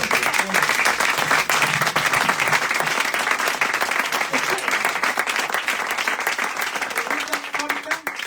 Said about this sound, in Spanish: vamos a aplaudir a Vicente